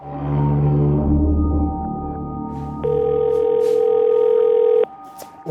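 A steady electronic phone ringback tone plays on and on unanswered, loud and close, ending abruptly with a faint click, under Hindi dialogue.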